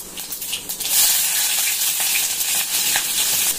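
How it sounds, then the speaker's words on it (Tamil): Onion and curry leaves sizzle and fry steadily in a hot pan as the base for a crab soup, a continuous close crackling hiss with small pops throughout and no talking. "நல்லா வதக்கிக்கலாம்ப்பா"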